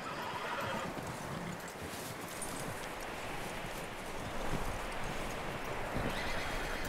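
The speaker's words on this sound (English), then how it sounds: "That looks like a decent horse." A horse in the Red Dead Redemption 2 video game whinnies amid clip-clopping hooves and rustling outdoor ambience, with the movement sounds continuing at moderate volume.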